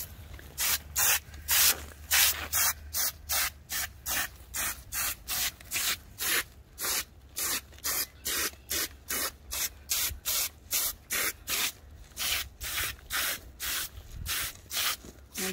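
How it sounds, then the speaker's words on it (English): Repeated short bursts of spraying water on divided hosta roots, about two per second in a steady rhythm, close and fairly loud with a low hum underneath. "Now don't spray Jeanette."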